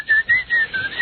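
Someone whistles a short, bright pea-whistle tune, several sustained notes in a steady rhythm, clear and close with no talk.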